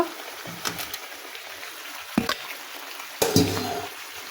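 Pointed gourd pieces tipped into a hot pan of frying spice paste, with a sharp hiss and clatter at about 2.2 s and again at 3.2 s, then a low sizzle continuing, close by, no talk.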